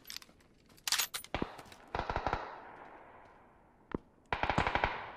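PUBG gunfire on the snowy Vikendi map, including a Mosin rifle, comes as sharp, fairly quiet cracks: scattered single shots and quick clustered volleys separated by brief gaps, with a tight burst at the end.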